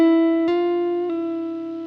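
Electric guitar sliding slowly up a half step, one clean sustained note that bends gently into the next, with a couple of soft pick or finger transients, alone and up close.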